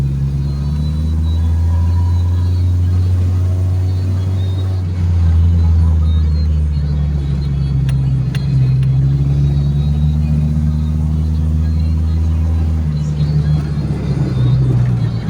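A car drives along a winding mountain road with many curves, its engine a steady close rumble with shifts in pitch as it works through the bends, and voices talking over it.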